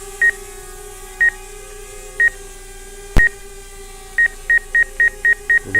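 Short, evenly spaced electronic beeps from the forward obstacle sensors of a DJI Mavic Air drone, sounding alone in sparse then rapid bursts, with one sharp click partway through.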